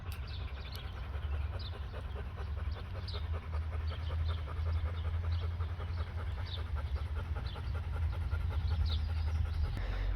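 A puppy pants steadily in the shade outdoors in a garden, quick rhythmic breaths close and continuous for the whole stretch, with faint birdsong in the background.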